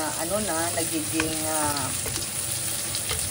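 Sliced onions sizzle steadily in a hot pan for pinapaitan, a constant close frying hiss with occasional stirring scrapes, while a voice is faintly heard over it.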